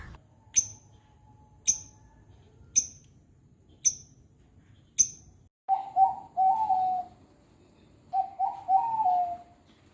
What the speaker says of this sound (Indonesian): Berikut adalah suara burung cinta dan burung perkutut Jawa.